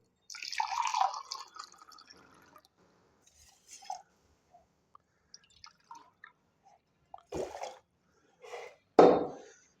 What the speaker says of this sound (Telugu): ఈ హాఫ్ గ్లాస్ రైస్ని మనం దీంట్లో పోసి దీనికి రెండింతలు వాటర్ పోయాలండి